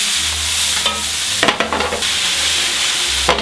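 Onions and garlic sweat gently in a pan for a Provençal beef stew, giving a soft continuous sizzle broken by a few close scraping stirs of the spoon, with a low steady hum underneath and no talking.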